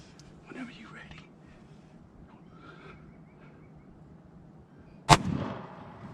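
A single loud shotgun blast during a turkey hunt rings out sharply near the end, its echo trailing away, after quiet whispered talk in the woods.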